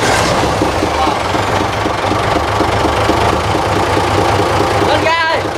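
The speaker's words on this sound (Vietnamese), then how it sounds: "Rồi bây giờ nổ máy đi em." Diesel engine of a wooden Vietnamese riverboat hull built from sao and bạch đằng timber, running loud and steady with a knocking idle rumble throughout, with a voice speaking briefly near the end.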